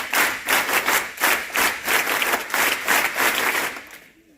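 Children at a camp gathering applaud together in loud, rhythmic clapping that pulses in regular waves for about four seconds, then fades out quickly.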